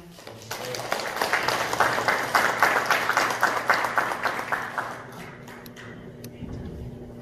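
An audience in a lecture hall at a community-economy talk at a Gumi theme park breaks into warm applause, many hands clapping steadily for several seconds before fading, and a voice speaks afterward.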